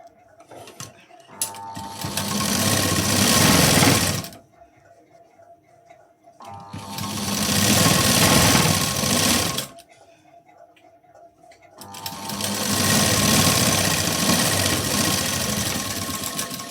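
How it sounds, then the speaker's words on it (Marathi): Sewing machine stitching the second side of a blouse, running in three sustained bursts with mechanical whirring and ticking, separated by short quiet pauses. "दुसऱ्या बाजूला पण शिलाई देऊन घेऊया."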